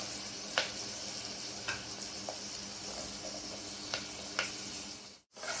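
Curry leaves and onions fry in a pan for a mushroom egg gravy, a steady close sizzle marked by several crisp spatula clicks and stirs, with a brief dropout just before the end.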